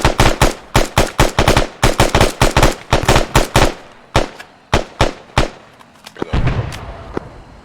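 Sustained rapid gunfire in a military video game platoon training exercise, loud bursts and single shots cracking in quick succession, thinning to scattered shots toward the end.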